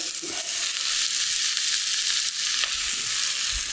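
Onions frying in clarified butter in a pan, a dense, steady, close sizzle and crackle with a few faint soft knocks, no voices.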